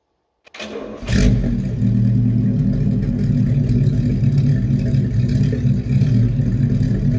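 A 1930 Bentley Speed Eight 6½ Litre motor car engine catches after a brief click and settles into a loud, steady, rumbling idle that holds strong and even throughout.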